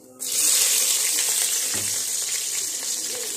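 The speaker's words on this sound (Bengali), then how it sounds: "এখন আমি এই কাঁচা পাকা লঙ্কা আর রসুনগুলো দিয়ে দিচ্ছি।" Green and ripe chillies and garlic drop into hot oil already crackling with cumin and black cumin, setting off a sudden loud sizzle that stays strong and steady throughout.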